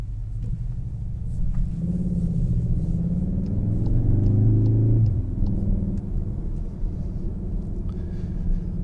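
A 2024 CUPRA Formentor Tribe Edition with 310 horsepower accelerates, its engine rumble climbing steadily in pitch for a few seconds before easing back to a steady cabin drone.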